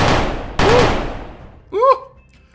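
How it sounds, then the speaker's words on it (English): Gunfire in the Monster Ops video game: two loud, sharp shots about half a second apart, each decaying slowly, then a brief tonal creature-like cry near the end. "Out of nowhere, a gunshot rang from right behind me and one of the beasts dropped dead."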